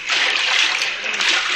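Splashing water as someone wades into a shallow river, a hissing, sloshing burst that swells and fades in waves, close and fairly loud, with a faint voice underneath.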